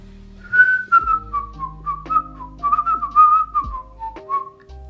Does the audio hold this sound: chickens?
no